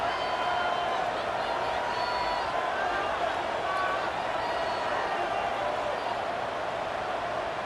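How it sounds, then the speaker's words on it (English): Steady, dense stadium crowd roar from a college football video game, loud and continuous throughout with no distinct peaks, with a commentator talking over it. "Listen to the crowd energy here in the early going."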